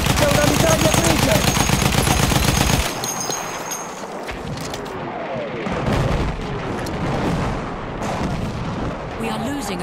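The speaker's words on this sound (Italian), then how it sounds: "Ehi, c'è una mitragliatrice!" Battlefield 1 machine gun fires a rapid, loud, sustained burst for nearly three seconds, followed by quieter distant battlefield rumble and scattered shots.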